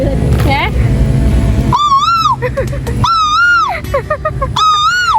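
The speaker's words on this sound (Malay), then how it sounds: "Sumpah suara burung." Clear, repeated bird calls ring out in a few rising-and-falling whistled phrases at a family holiday gathering, with background chatter and noise underneath.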